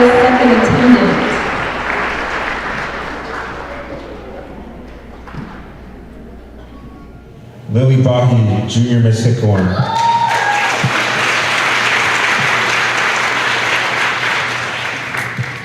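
Audience clapping at a Tohono O'odham Nation pageant crowning ceremony, steady applause running under an announcer's amplified voice and swelling louder partway through.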